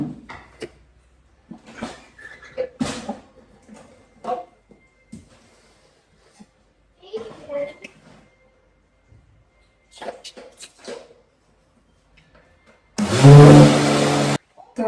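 A mixer grinder whirs into a loud, steady grind for a second or two at the end, crushing roasted niger seed for a kitchen chutney, after scattered quieter kitchen clatter.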